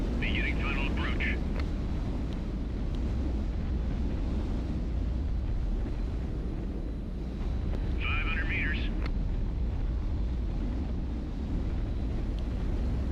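Reverse thrusters fire on a ship landing in the video game HighFleet, a continuous low rumbling roar with a wind-like hiss that holds steady throughout, while a voice speaks over it.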